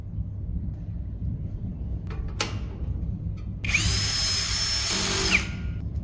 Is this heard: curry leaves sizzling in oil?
no